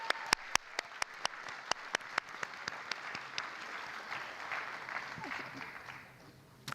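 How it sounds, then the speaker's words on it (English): A crowd applauds a young dancer at her Bharatanatyam arangetram, with loud individual claps up front thinning into a softer, fading patter of clapping over several seconds. "Can we give Kavya another huge round of applause?"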